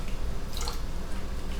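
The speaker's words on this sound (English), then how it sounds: "pour about maybe a tablespoon of some apple cider vinegar in there" About a tablespoon of apple cider vinegar is poured into a bowl while cooking, a brief, soft liquid trickle and drip against a quiet background.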